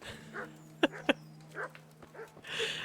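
A dog in Kingdom Come: Deliverance lets out a few short yips and two sharp barks at moderate distance, spaced irregularly over a faint low hum.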